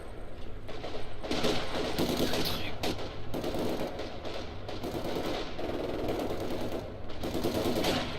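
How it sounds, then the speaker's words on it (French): Rapid bursts of machine-gun and rifle fire in a video game battle, with soldiers' voices calling out about a heavy machine gun position, dense and continuous with brief gaps between volleys. "On essuie des tirs!"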